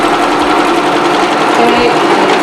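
A sewing machine stitches straight across a lace closure wig, a loud continuous rapid mechanical whir running close by throughout.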